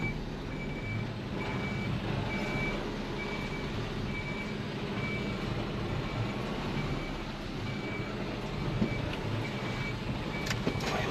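A reversing truck's back-up alarm beeps steadily in a regular rhythm against continuous engine and road rumble, heard from inside a vehicle with the window open while the truck backs in tight beside a building.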